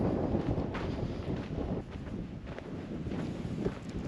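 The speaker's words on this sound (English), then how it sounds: "It's windy, and I'm digging that wind" Wind blows steadily across an open, warm desert landscape with petrified trees, a constant broadband rush buffeting the microphone with no talk.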